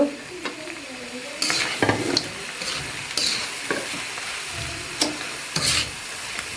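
Nuts frying in a pan for fried rice, a loud close sizzle with repeated stirring scrapes and spatula knocks at an irregular rhythm.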